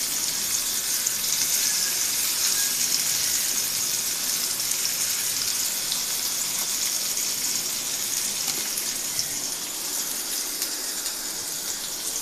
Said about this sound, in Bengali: এখন দিয়ে দিব পেঁয়াজ আর কাঁচামরিচ যে কুচি সেগুলো।